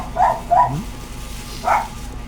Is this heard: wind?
no